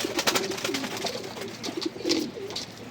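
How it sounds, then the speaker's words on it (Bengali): Pigeons feed inside a loft, close by, with a soft warbling coo under quick, light tapping from pecking. "এই যে প্রত্যেকটা কবুতর খাইতেছে"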